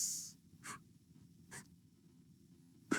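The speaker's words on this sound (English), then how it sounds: "Let me write it down." A few separate strokes of a pen on paper while working a surds problem, each one brief and scratchy, spaced apart and close but faint in a quiet room.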